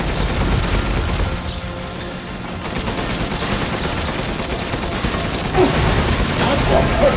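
Dense, loud gunfire during a boss fight in Resident Evil Village, rapid shots and booms packed together almost continuously, with voices shouting over the din.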